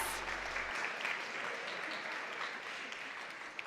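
An audience at a creator summit cheers and applauds for honored changemakers, a dense, steady wash of clapping and crowd noise filling the room from start to finish.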